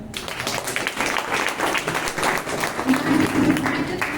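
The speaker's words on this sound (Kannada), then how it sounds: "ಅವರಿಗೆಲ್ಲರಿಗೂ ಕೂಡ ಒಂದು ಚಪ್ಪಾಳೆ ತಟ್ಟಣ" An audience at a banking exam coaching information event in Shivamogga breaks into a dense, sustained burst of clapping, close and fairly loud, continuing without a break.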